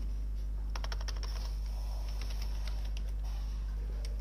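Keys tapped on a computer keyboard while a git branch command is entered, a quick burst of clicks early on, then sparser taps over a steady low electrical hum.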